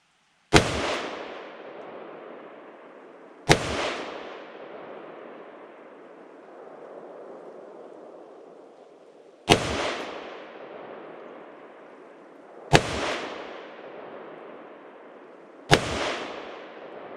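Five sharp gunshots fire at a target, spaced irregularly, each a loud crack followed by a long echoing decay into quiet.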